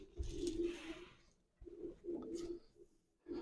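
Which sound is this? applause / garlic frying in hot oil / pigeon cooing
pigeon cooing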